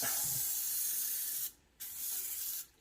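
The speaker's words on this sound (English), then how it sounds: "Okay, so this is how you spray it." Steady hissing spray from an aerosol can of cooking oil onto a pan, two bursts separated by a short pause, close and fairly loud.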